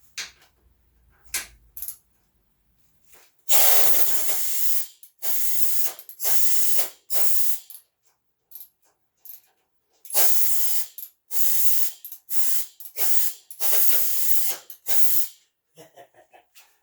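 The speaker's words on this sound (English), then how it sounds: "we got a compressor up to about 100 pounds" Air compressor charged to about 100 psi releasing compressed air in loud hissing bursts, one long blast followed by a series of short sprays separated by pauses.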